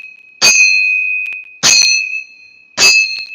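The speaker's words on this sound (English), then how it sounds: "As you hear the sound of the temple bells" Temple bells ring three times at a slow, steady interval, each clear bright strike hanging in a long shimmering tone before fading, with near silence between strokes.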